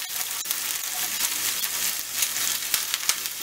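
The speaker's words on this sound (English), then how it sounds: "You go ahead and you add your vegetable in." Chopped celery and onion sizzle in a hot skillet of Jamaican meatloaf vegetables. The frying is steady and close, with a dense hiss and a few faint stirring clicks, and there are no voices.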